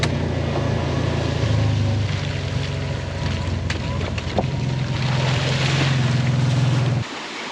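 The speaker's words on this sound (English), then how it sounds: "normally it's not too wise to be driving through floodwaters" A vehicle drives through floodwater near a creek during a major storm, making a steady loud rush of water and engine rumble with wind noise on the microphone, continuous and close throughout.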